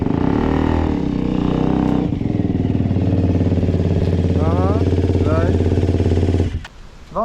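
An Aprilia SX125 motorcycle fitted with an Akrapovic exhaust revs loudly and close by, its engine note holding high and steady with rising pitch sweeps, then dropping away sharply near the end.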